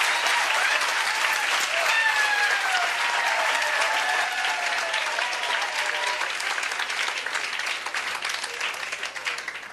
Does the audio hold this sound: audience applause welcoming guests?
yes